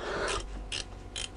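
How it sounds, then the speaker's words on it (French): A ratchet wrench works a stubborn bolt on a Chrysler 300C CRD 3.0 diesel engine during an alternator replacement, giving three short bursts of clicking separated by brief pauses, close and fairly quiet. "on est obligé de tout faire au cliquet"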